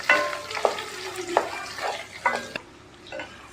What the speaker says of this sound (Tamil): வெங்காயம் வந்து நல்லா பொன்னிறமாக வதங்கி வர அளவு நல்லா வதக்கிக்கலாம்